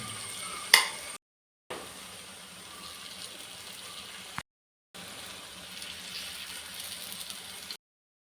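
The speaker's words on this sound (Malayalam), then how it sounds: "ഇതെല്ലാം നമുക്ക് ഫ്രൈ ചെയ്തെടുക്കാം" Banana fritters fry in coconut oil, producing a continuous even hiss heard in three stretches separated by short silent breaks, with a sharp knock near the start.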